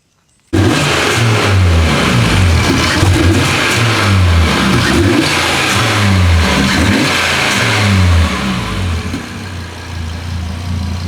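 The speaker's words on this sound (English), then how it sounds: "some revving for you guys" Audi TTRS/RS3 fitted with a CTS turbo intake revving repeatedly, loud and close, with rhythmic rises and falls of engine pitch and intake noise, settling toward idle at the end; no talking.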